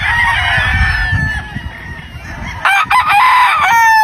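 A gamefowl rooster at a Philippine gamefarm crows loudly and close by, with clucking and other fowl calls in the farmyard around it and no talk over the crow.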